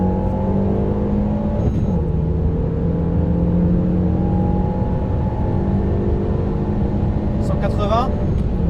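A Renault Megane 3 RS Cup accelerates at full throttle in sport mode, its engine note climbing steadily through the gears, loud and close from inside the car, with a brief shift break midway and a voice heard at moments.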